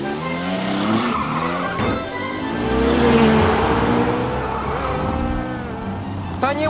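Cartoon car racing out of control with its gas pedal stuck: loud revving engine and squealing, skidding tires, with excited voices talking over the commotion.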